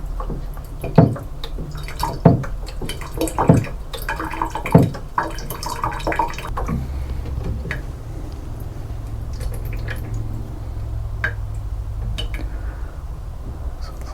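Liquid sloshes in a tray as a dry salt print is selenium toned in a 1:100 solution at 24 °C, with several splashy drips and rocking movements early on, then a low steady wash of faint liquid noise.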